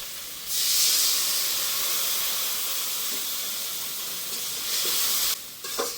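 Water poured into hot frying masala with chili and coriander powder for a country chicken curry, giving a loud burst of steam hiss that settles into a steady sizzle, ending in a second surge, close and alone.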